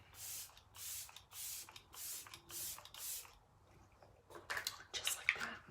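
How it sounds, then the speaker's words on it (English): Six rhythmic, close hisses of a setting spray misted onto a face, then a pause and some soft clicks and rustles of handling the bottle. "set everything with Let It Set Refreshing Spray"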